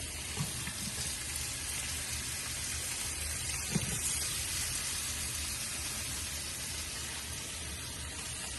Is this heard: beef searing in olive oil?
yes